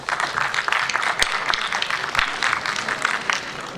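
An audience at a literary gathering claps to welcome a critic and fiction writer to the stage, a steady, close patter of many hands with a few sharp individual claps standing out.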